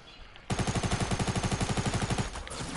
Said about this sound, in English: I hear gunshot in the house.